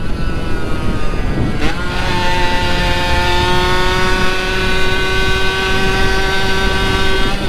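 A vintage Yamaha YSR50 motorcycle climbs uphill at speed with a steady, buzzing engine whine that holds one high pitch, continuous and close over wind noise.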